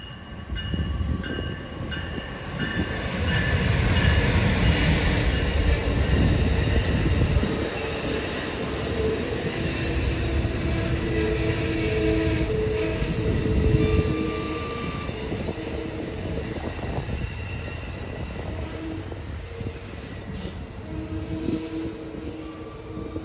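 A Metra Electric train and an Amtrak train pass through the Homewood station, giving a loud, sustained rumble of rail cars. Wheels clatter and squeal throughout, and the noise swells in the first half before easing to a steady roll.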